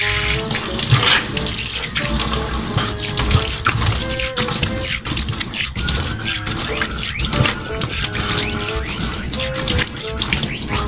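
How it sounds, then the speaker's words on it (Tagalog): A running water tap gushes loudly and steadily while something is rinsed beneath it, with splashing and slight shifts in the flow throughout. "Okay, banlawan na natin."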